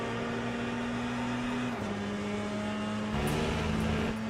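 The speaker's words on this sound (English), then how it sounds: "Tyres are squealing." A race car in the Le Mans Ultimate racing sim holds a steady engine drone with sustained tonal tyre squeal, shifting pitch partway through as the car works a corner, loud and continuous with no voices.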